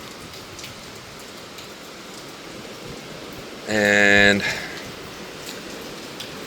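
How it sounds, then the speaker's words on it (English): Wind-driven rain sweeping steadily the morning after Typhoon Tino, a constant wash of hiss throughout, with a brief louder tonal burst midway and a voice speaking under it. "it is still blowing some rain"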